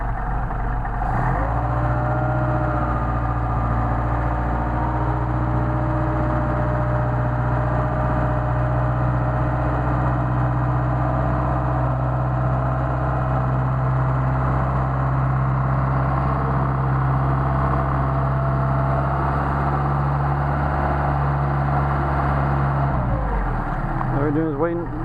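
A Mercedes 190SL engine with Solex carburetors idles steadily while warming up, a constant low rumble held close for nearly the whole stretch, then cutting off near the end.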